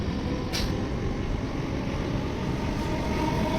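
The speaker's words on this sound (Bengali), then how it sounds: "ট্রেনও বেরিয়ে গেল, আর আমরা এখন এই স্টেশন চত্বর ছেড়ে দেওয়ার জন্য প্রস্তুত।" A Vande Bharat Express train pulls out of a station: a loud, steady rumble and whoosh of rolling carriages that carries on without a break.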